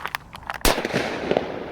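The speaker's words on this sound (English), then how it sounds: "Now let's go ahead and see how powerful this firecracker is right here." A single firecracker goes off with one loud, sharp pop, standing out clearly from a quiet background and followed by a short rustling tail.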